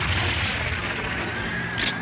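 Cannon fire from the anime Nadia: Secret of the Blue Water rumbles as a noisy, crackling barrage of blasts and booms that fills the scene at moderate loudness.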